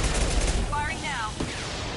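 Dense, loud gunfire rattles continuously in the Mass Effect 2 video game during a fight with a Krogan, with brief chirping game tones layered over the barrage.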